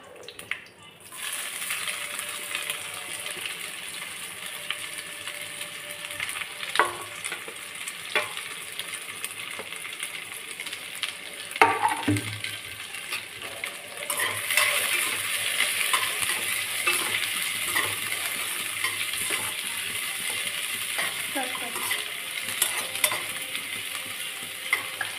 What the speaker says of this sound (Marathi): कांदा भाजून घेऊया फर्स्टला.